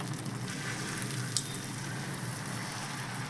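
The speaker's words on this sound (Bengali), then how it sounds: "এবার এটা আর একটু ভাজা ভাজা হোক" Pabda fish and spice paste frying in oil in a pan, a steady close crackling sizzle with no talk.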